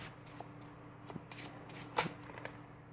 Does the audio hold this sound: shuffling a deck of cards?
yes